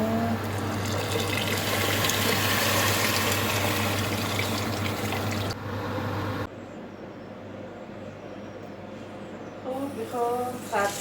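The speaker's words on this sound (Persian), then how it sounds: "ببرم که اینا رو بشورم بعد بریزم تو گابلمه" Water runs from a tap while rice and bulgur are washed, a steady loud gushing that stops abruptly, leaving quieter dripping and handling noises, then light clattering at the end.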